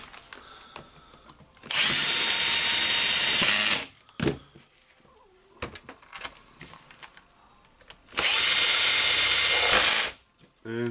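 Power screwdriver driving metal screws into the top of a Makita HR2811FT rotary hammer drill handle during repair, two loud whirring bursts of about two seconds each, separated by quiet handling clicks.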